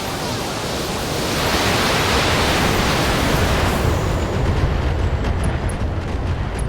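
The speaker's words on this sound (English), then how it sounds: "Turret destroyed! Structure exploded." A turret structure blows up in BattleTech, giving a loud, sustained rumbling blast with a noisy, roaring wash that holds for several seconds before the brightest crackle thins out.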